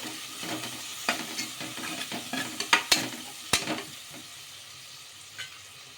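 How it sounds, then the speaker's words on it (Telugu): A mixture with turmeric fries quietly in a pan while a spoon stirs it, giving soft sizzling with scattered scrapes and several sharper clinks in the middle that fade toward the end. "ఇలా పసుపు కూడా వేసుకొని ఒకసారి బాగా కలిపేసుకుందాము"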